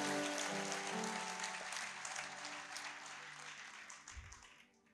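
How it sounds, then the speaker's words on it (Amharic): A church congregation at a prophetic worship service in Dire Dawa breaks into applause for the Lord: a dense, steady wash of clapping that thins and fades toward the end, with no speech over it. "ለጌታ ክብር አጨብጭቡልኝ"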